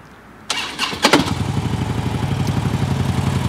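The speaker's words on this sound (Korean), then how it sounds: "시동 한번 걸어볼까요?" A Harley-Davidson Dyna motorcycle with a stock muffler cranks with a few sharp bursts, then catches and settles into a loud, close, even idle with a steady low pulsing beat.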